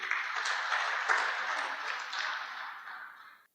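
An audience at the No-Till Club Conference 2017 gives a round of applause: a dense, even patter of clapping that holds steady and then gradually fades away.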